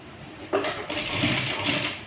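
A sewing machine runs a stitching pass along the side seam of a skirt, starting abruptly with a steady mechanical whir and rattle that continues close and fairly loud with no talking.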